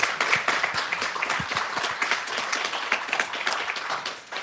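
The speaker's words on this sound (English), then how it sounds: "can we please give the Gary National Film Festival another round of applause for the 11th year" A film festival audience at the 11th annual Gary International Black Film Festival breaks into loud, sustained applause, dense overlapping claps rolling on evenly for several seconds.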